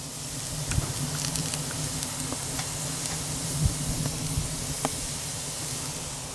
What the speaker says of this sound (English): I'm going to be quiet for a second so you can hear this wood sizzling